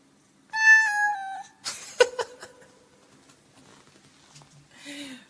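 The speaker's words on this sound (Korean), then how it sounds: "고양이 울음소리에 오토튠 걸기" A cat's meow run through an autotune effect comes out as a bright, pitched warble, then a clattering burst and faint trailing noise, followed by one more short processed meow near the end.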